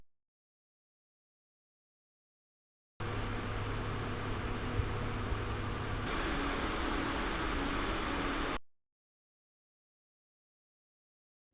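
Mobius fans on a Hyper 612 Apex CPU cooler, a steady airy whoosh at 80% speed that rises to a louder, fuller rush at full speed, framed by silence.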